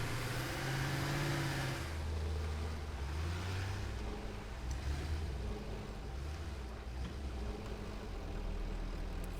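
A truck drives through a factory world in Satisfactory, its engine a steady, loud low rumble with shifting tonal hum throughout, no talk over it.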